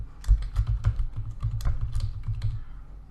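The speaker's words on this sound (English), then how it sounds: "just type the root user email address" Rapid keystrokes on a computer keyboard while entering an AWS console login email, an irregular run of close, crisp clicks with low thumps, no talking.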